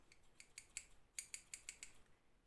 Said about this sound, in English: So I got this pair of scissors and they're great.